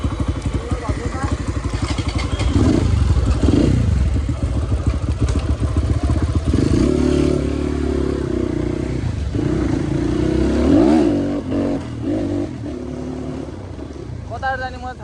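A repaired motorcycle with a formerly loose cone bearing rides along a village road, its engine droning steadily and loudly up close, with rises in revs and some rattling.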